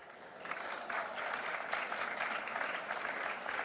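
Audience applause greeting the president of Equipauto at an international automotive innovation awards ceremony: dense, steady clapping from a large crowd that holds evenly loud throughout.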